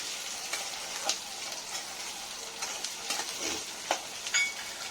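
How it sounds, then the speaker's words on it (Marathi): Half a cup of peanuts frying with sautéed onion in a pan for upma, a steady sizzle with occasional stirring clicks and scrapes, close and fairly quiet, no talk. "आता आपण याच्यात अर्धी वाटी शेंगदाणे घालायचे. शेंगदाणे चांगले फ्राय होऊन घ्यायचे त्याच्यात."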